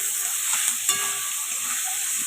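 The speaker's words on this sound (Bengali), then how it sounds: "এখন আরেকটু ভাজতে হবে, আর এর মধ্যে আমি দিয়ে দেবো পেঁয়াজগুলো" Potatoes frying in oil in a kadai give a loud, continuous close-up sizzle and hiss, with a few faint clicks of stirring.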